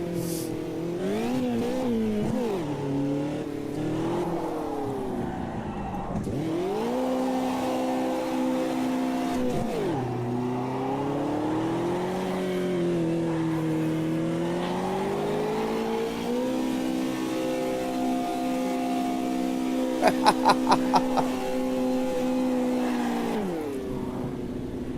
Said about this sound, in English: Now we can cook the tyres.